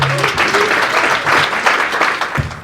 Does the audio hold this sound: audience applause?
yes